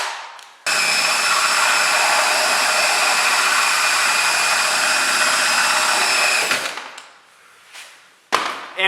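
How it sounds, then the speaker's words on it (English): A cordless drill whirs loudly and continuously for several seconds while drilling to mount a snowmobile ice scratcher, then stops, followed by a few short clunks and knocks. "I now have the new battery in the drill, and I'm gonna do the second ice scratcher here"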